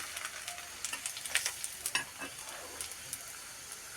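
Paratha frying in oil in a pan, a steady crackling sizzle with scattered sharp pops, close and moderately quiet, with no voices.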